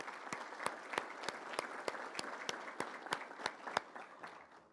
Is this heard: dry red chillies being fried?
no